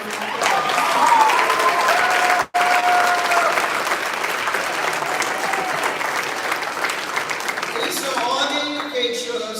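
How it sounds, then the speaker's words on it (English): Loud, sustained applause from the audience at the 2025 Académie Lafayette International High School commencement ceremony, a dense wash of clapping that carries on steadily with one brief dropout near the start. "please stand for a round of applause"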